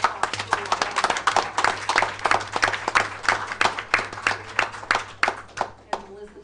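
Audience applause at a school board of education meeting, honoring an exemplar school: steady, dense clapping from a crowd in a hall, sustained for several seconds with a faint low hum underneath.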